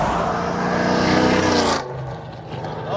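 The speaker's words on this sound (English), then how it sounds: "Bro, the pops and the crackles in that." A cammed 1986 Foxbody Mustang roars past at close range, loud and rising, then falls away after the pass with popping and crackling from the exhaust, and no voices.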